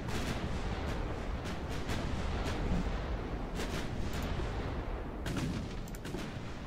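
Dense naval gunfire in the Ultimate Admiral Dreadnoughts battleship game, a continuous rumbling barrage of heavy shell blasts that overlap into a loud, steady roar with brief sharper reports scattered throughout.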